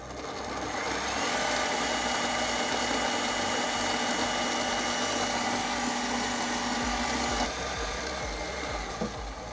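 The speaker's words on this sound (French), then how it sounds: "Je commence par faire monter tout simplement la crème directement dans le batteur." An electric mixer whips plant-based cream for a pastry, a steady loud whirring drone with a constant motor hum that runs for about seven seconds, then cuts out.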